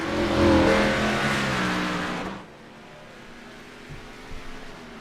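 A race car in the Road To Pro Series at Qualcomm Circuit in San Diego revs loudly as it gets rolling again, its engine note strong at first before dropping away to a faint, distant hum.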